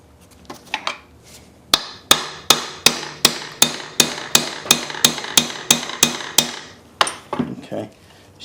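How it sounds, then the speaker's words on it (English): Metallic blows ring out as a heavier hammer drives a drift pin through a Briggs engine block being converted to overhead valves: about fifteen sharp, evenly spaced strikes in a steady rhythm, close and loud, with no talk. "The heavier hammer will just help it."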